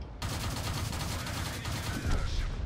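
Rapid autocannon burst from an M2 Light tank in World of Tanks, a dense stream of fast repeated shots firing loud and close across the whole stretch.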